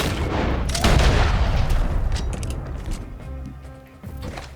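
Gunfire in Red Dead Redemption 2 at a bandit hideout, a loud burst of booming shots early on that fades into echoing reports, with a few more sharp shots near the end.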